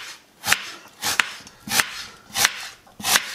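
Knife chopping an onion on a cutting board in a home kitchen: five sharp, evenly spaced chops, close and clear, with quiet pauses between them and no talk.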